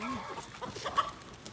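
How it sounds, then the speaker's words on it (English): A rooster clucks in a short, moderate outdoor burst, with soft clucks and rustling nearby. "Here's Gravy the rooster."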